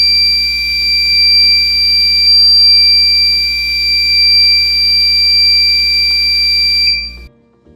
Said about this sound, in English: Now you will hear a very long beep that will last for a couple of seconds